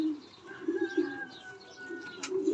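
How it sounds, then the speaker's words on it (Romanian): A prized show pigeon of catalog quality coos softly and repeatedly at close range, low murmuring calls with faint chirps in the background and no talking. "O pasăre, o pasăre de catalog, domnule, o pasăre de expoziție."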